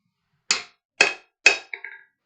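Three evenly spaced ringing hammer blows on metal against an anvil, followed by a quicker, lighter double strike, close and clear with nothing else around; a smith working on a square drift.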